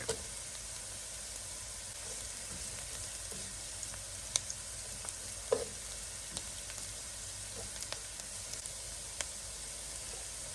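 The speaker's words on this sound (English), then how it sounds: "Once the onions are translucent, add 5 to 6 cloves of finely chopped garlic." Onions and finely chopped garlic frying in a pan for homemade spaghetti sauce give a steady, close sizzle. Occasional small pops and spatters break through the even crackling hiss.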